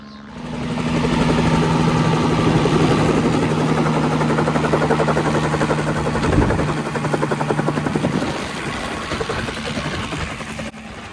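A crop-duster helicopter spraying fungicide comes in to land on top of a truck, its rotor and engine roaring loud and steady at close range, the thudding blade chop and turbine whine filling the air before easing slightly near the end.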